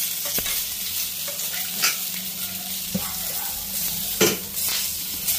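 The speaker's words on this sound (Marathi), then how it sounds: "आता हे पलटी केलं तर थोडंसं परत तेल सोडू आपण" Marinated fish, pomfret, fries in oil after being flipped, with a soft steady sizzle punctuated by several sharp clicks and scrapes of a spatula against the pan.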